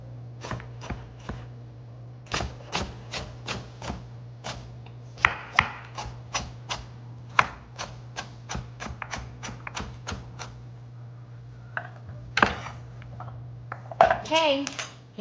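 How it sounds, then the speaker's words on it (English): Carrots being peeled by hand for a canned beef stew, a rapid run of crisp scraping strokes close by, pausing briefly before resuming, with a few words spoken near the end. "we're going to peel our carrots"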